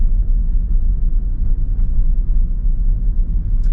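A car drives along a road with a steady, fairly loud low rumble of road and engine noise, heard from inside without interruption.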